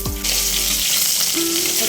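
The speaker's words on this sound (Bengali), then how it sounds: "কড়াইতে তেল দিয়ে দিলাম জিরে শুকনো লঙ্কা ফোড়ন তেজপাতা ফোড়ন দিয়ে দিই" Loud, steady sizzling of cumin seeds, dried red chillies and bay leaves frying in hot oil in a wok, close up, with a brief clatter at the start.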